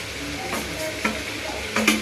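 Ground cumin and coriander paste fries in a pan for a chicken and potato curry, a brief crackling sizzle broken by a few sharp stirring scrapes.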